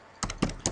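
Fast typing on a computer keyboard while entering data labels into statistics software, a quick burst of several sharp, close key clacks with uneven rhythm and no talking.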